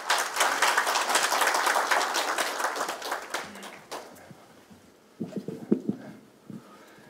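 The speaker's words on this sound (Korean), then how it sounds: "모두 박수로 맞이해 주시면 감사하겠습니다" Seminar audience at Korea University applauding to welcome a speaker, a loud burst of clapping that fades out, followed by a few scattered taps and rustles.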